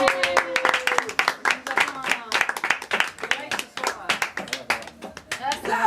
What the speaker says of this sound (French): on peut tous applaudir Xavier